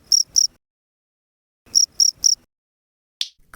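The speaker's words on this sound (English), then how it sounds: "cricket." A cricket chirps in short, bright pulsed bursts, two then three, with clean silence between the groups and a brief click at the end.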